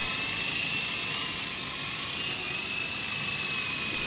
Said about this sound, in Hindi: लेकिन हेलीकॉप्टर बिल्कुल स्टेबल फ्लाइंग कर रहा है